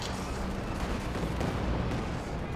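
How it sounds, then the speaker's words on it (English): Katyusha rocket artillery fires in the video game Company of Heroes 2, a dense, rumbling barrage of overlapping launches and blasts that is continuous and loud throughout. "Katyusha firing the Grenadiers"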